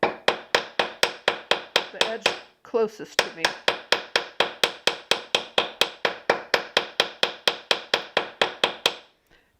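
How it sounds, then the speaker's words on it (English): A hammer strikes a sterling silver bail during forging in a steady, rapid series of crisp metallic taps, pausing briefly partway through before resuming the even rhythm. "I'm going to hammer on this lower edge down here and straighten up that curve a little bit"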